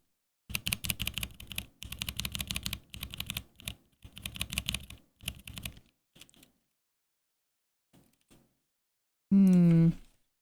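A tactile mechanical keyboard switch fitted with a keycap, pressed repeatedly in quick bursts of clacky taps, close and crisp, with a short voiced sound at the end.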